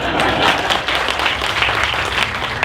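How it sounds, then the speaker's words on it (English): A crowd applauds Brian Benninghoff at a Manassas brewery event where a Virginia governor announces agribusiness grants. The clapping is loud, close and continuous throughout the short burst. "Applause for Brian Benninghoff."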